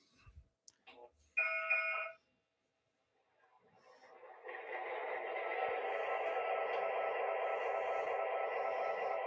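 GP model train locomotive starting up: a short burst of tonal beeps and clicks, a pause, then a steady electronic engine hum that builds and holds, faint and close.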